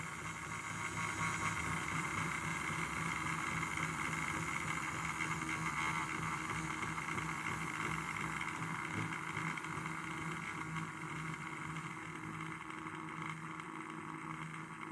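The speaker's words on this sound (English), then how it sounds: "if you listen very carefully, it actually sounds like mechanical noises. It actually sounds like a real valve gear" A Hornby model locomotive running, giving a steady, faint mechanical whir and hum with a fine rattling texture like valve gear, unbroken and even throughout.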